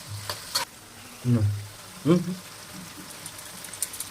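Green and red bell peppers stir-fry in a pan with a soft sizzle and scattered scrapes of a spatula, while a voice speaks briefly in between.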